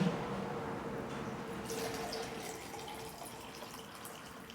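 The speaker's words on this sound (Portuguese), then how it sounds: "Faz nos lembrar do barulho de uma cachoeira" Water runs in a continuous broad rush like a small waterfall, steady and moderately loud at first, then fading gradually toward the end with faint hiss and no voices.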